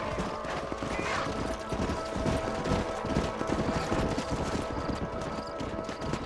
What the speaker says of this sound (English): Stay with the horses.